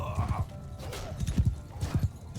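Horses gallop in a medieval strategy video game, a fast rhythmic clip-clop of many hooves with a few whinnies mixed in, close and prominent against battle ambience.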